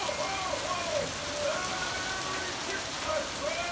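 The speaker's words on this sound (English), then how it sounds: "It's still raining steadily, but just a little," Steady rain falls in Southern California, a continuous soft hiss of drops on surfaces at moderate level, with faint background sounds but no clear talk.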